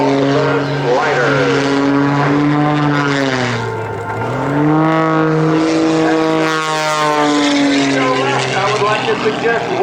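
Sean Tucker's aerobatic propeller airplane performing at the 2011 Rhode Island Air National Guard open house airshow, a loud close engine roar that dips and rises in pitch as it passes, with an announcer talking over it.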